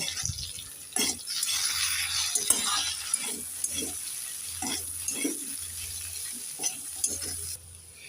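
Small fish being stirred in a pan with turmeric and chili powder, soft scraping strokes at irregular intervals over a low, steady sizzle, close by and fairly quiet, with no voices.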